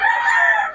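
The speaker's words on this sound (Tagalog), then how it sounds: "napakaraming manok nito ni Tatay Tony" A rooster crows loudly and close among many gamecocks, one brief sustained call filling the moment with no talk.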